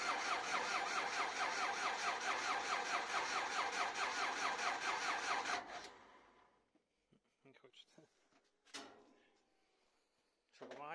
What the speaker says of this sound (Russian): Сегодня все это установили, запустили двигатель, сейчас покажем вам работу.